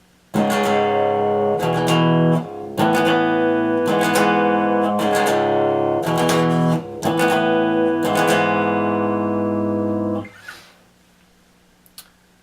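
Guitar plays the intro of a song, an open string ringing while the low E is muted, in close, steady repeated chord pulses with short breaks, then stops and leaves near silence.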